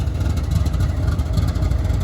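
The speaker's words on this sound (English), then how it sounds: "Lead unit 7531 is an ES44DC, originally delivered as an ES40DC" Norfolk Southern ES44DC GEVO diesel locomotive, upgraded from an ES40DC, rumbling past close by on a country stretch of the Pittsburgh Line, a loud, heavy, steady low engine drone with a faint pulsing throb.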